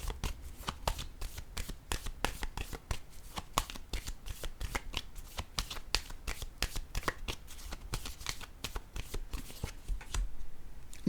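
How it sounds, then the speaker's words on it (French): Tarot cards being shuffled and handled, a rapid run of crisp riffling flutters and soft slaps repeating steadily close by, with no talking. "J'ai le goût de déposer une autre carte ici."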